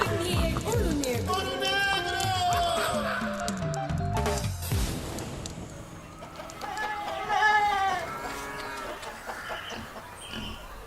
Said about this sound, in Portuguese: Os animais que ainda não foram levados à pastagem já reclamam ração.